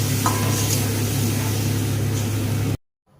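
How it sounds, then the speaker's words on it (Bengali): Spice-wash water poured into frying spices for a cauliflower and mushroom curry, sizzling and bubbling loudly and continuously while being stirred, close up, then cutting abruptly to near silence. "এবার এর মধ্যে দিয়ে দেব মশলা ধোয়া জলটা, দিয়ে আবারও একটু ভালো করে কষিয়ে নেব।"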